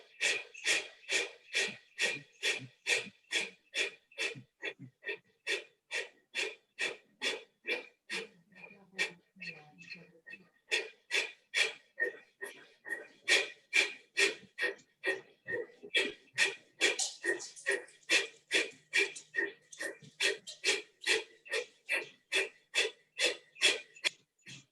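Rapid, regular forceful exhales from Kapalbhati breathing practice, done through an open mouth, pulsing about twice per second and close up for the whole stretch, with a brief pause around the middle.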